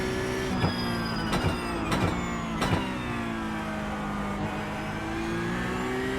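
Porsche Cup race car in the iRacing sim at Mount Panorama, engine droning steadily with several sharp blips from quick downshifts under braking early on, then a settling rev as the car slows.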